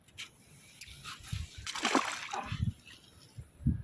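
An 86 cm pike released into a lake, making several irregular splashes and sloshes close by, with a bigger burst of splashing in the middle and faint handling noises between.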